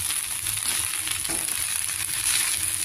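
Gongura leaves frying on a low flame, giving a steady, soft sizzle with faint crackles that runs evenly throughout and is heard alone.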